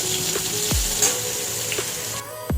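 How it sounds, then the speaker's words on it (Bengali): Capsicum frying in hot oil in a pan, producing a loud, continuous close sizzle with a few brief stirring clinks, and no talking. "ক্যাপসিকামটা ভেজে নিয়েছি এবার তুলে নেবো"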